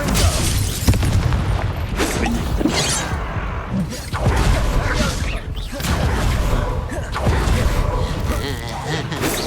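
Confringo fire-spell blasts go off in a Hogwarts Legacy duel, bursting loudly and repeatedly over game music and combat clatter, with character voices shouting in between.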